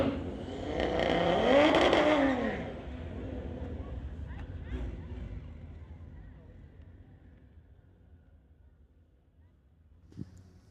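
Drag racing cars, a 2018 Audi RS3 against a 2018 Porsche 911 in the Outlaw class, launch with a loud roar whose pitch climbs quickly, then fade into the distance, leaving a low background rumble and a brief thud near the end.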